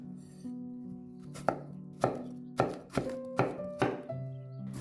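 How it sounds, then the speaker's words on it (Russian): A knife chops an onion on a board while oil heats: a handful of firm, evenly spaced cuts, close and distinct, with no talking. "Пока греется масло, нарезаем с вами одну луковицу."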